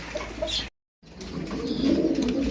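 Pigeon cooing in a loose, murmuring run, briefly cut by a short silence and then resuming steadily at close range; the bird is a stretcher pigeon among racer, beauty, Danish and magpie pigeons kept for sale.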